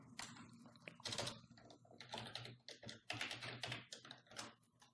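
Rapid irregular tapping of keys on a computer keyboard, close and fairly loud, in uneven bursts with short pauses and no talking.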